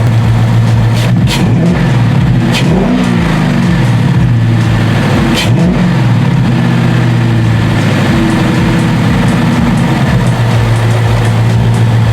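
A 6th-generation Ford Mustang GT 5.0L V8 engine revs up and down several times over a steady low rumble, loud and close, heard from outside the car, with no voices.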